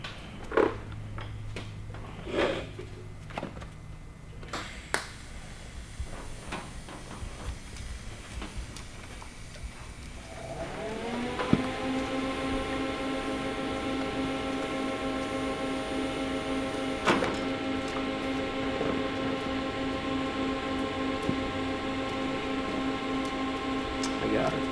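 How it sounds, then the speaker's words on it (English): Welding on a twin-turbo kit for a 1000hp Mustang street car: scattered workshop knocks and voices give way to a steady, close electric buzzing hum that holds for the second half. "I don't know if that's going to crack or not, but it's welding"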